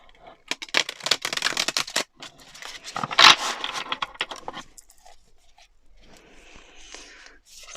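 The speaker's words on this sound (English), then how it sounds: "So we're going to do one more shuffle." Tarot cards riffled and shuffled in quick bursts, crisp papery flutters with a sharp snap midway, then quieter shuffling toward the end.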